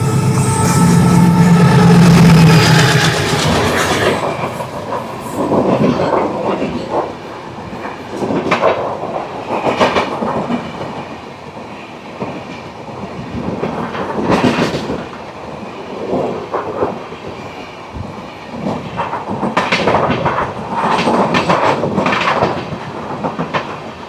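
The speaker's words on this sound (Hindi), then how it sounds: "ये है सबरूम कंचनजंगा एक्सप्रेस।" Sabroom Kanchenjunga Express, hauled by a WDG 6G locomotive, rumbles past with a loud opening roar easing into a steady clatter of wheels over rail joints, no voices heard.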